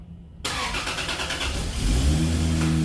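A turbocharged Lexus IS300 engine with a plug-and-play ECU Masters kit cranks briefly, then catches and roars to life, revving up loudly before settling into a steady, rumbling idle.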